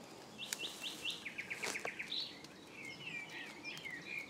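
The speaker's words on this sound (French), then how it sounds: "Ça c'est un oiseau." Several small birds chirp and trill outdoors at a dolmen site, bright repeated tweets in quick series, fairly close and clear over a steady hiss of background air.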